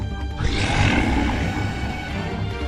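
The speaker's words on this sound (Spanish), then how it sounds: "El rugido que le acompañó hizo temblar las hojas y ramas de los árboles" A deep, monstrous roar bursts in after a brief moment and holds, rough and rumbling, over a low droning background.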